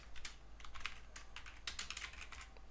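Fairly quiet typing on a computer keyboard while entering picker menu labels in a design tool: a steady stream of light, close key clicks with no speech.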